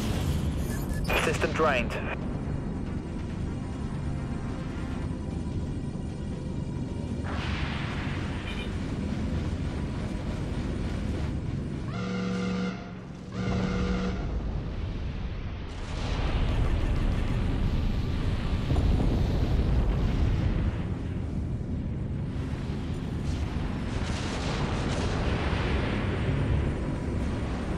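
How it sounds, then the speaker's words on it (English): Torpedo and missile fire with explosions in the starship battle game Dreadnought: a continuous rumbling barrage of launches and blasts with a brief lull midway, under clipped radio-style voice callouts. "Torpedo launched. Fire missiles, aye, Captain."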